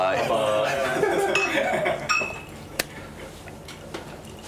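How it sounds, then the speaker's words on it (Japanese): Glasses clink together in a toast at a gathering, with a few bright, sharp chinks standing out over a busy background of voices and clatter. "乾杯"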